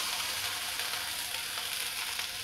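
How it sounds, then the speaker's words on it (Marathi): Steady, loud hiss and crackle of water sprinkled onto a hot dosa griddle, continuous and close, with no talking. "आता आपल्याला एक टेम्परेचर मेंटेन करण्यासाठी तव्याचं त्याच्यावरती असं पाणी शिंपडून घ्यायचं थोडं"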